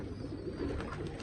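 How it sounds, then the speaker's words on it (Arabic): Pigeons coo from a loft of flight birds kept by a fancier, low soft calls repeating steadily over a constant background rumble, fairly close and moderately loud. "هاي طيور مال المطيار"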